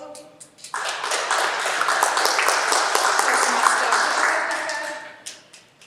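At a Toastmasters club meeting, members applaud new members: after a brief spoken name, a room of people bursts into steady, fairly loud clapping that holds for several seconds before tapering off.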